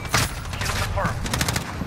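Rapid gunfire in the Modern Warfare video game sounds as a dense burst of shots that carries straight through the short moment, with a voice faintly in the mix.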